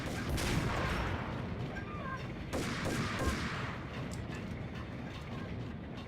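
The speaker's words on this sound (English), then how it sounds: "Okay, let's try that again, except this time with a sniper rifle." Sniper rifle fire in the Max Payne video game, with several sharp cracks over a dense, noisy background of gunfire and ambience, one prominent shot near the start and another about midway.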